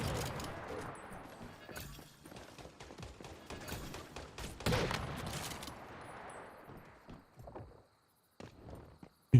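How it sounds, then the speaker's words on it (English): Gunfire from a splody sniper rifle in the video game Once Human, a string of sharp, irregular shots with some clustered bursts and softer thuds between them, ending in a brief lull and then a final loud crack. "Shooting things in the face with my splody sniper rifle."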